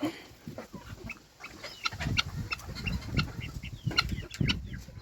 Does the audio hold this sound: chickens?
yes